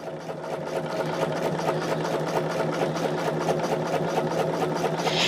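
A sewing machine stitching fabric, with a laser guide light mounted left of the presser foot, runs steadily at an even rapid pace with a constant motor hum and fast needle chatter, close and alone.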